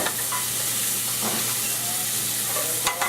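Chicken livers and garlic frying in a pan, a loud steady hiss of sizzling fat with faint scrapes and a sharp knock near the end, close up and without speech.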